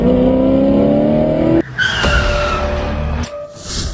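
A car speeds past with a loud engine roar and screeching tires that skid, the tone sweeping and cutting off abruptly before a second burst of squealing rubber near the end.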